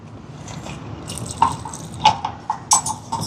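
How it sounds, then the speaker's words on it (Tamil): Slow trickles and drips of water falling into thick kara boondi batter, a few distinct plops spaced irregularly, close and fairly clear. "தண்ணி கொஞ்சம் கொஞ்சமாக விடணும்"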